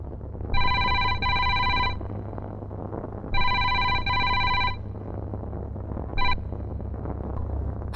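A telephone rings in two long double bursts followed by a short clipped ring, loud and close in a quiet room scene from a Hindi-dubbed South Indian romantic action film.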